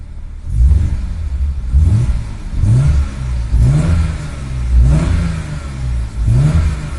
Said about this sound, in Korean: 그래서 이제 배기음을 들어보겠습니다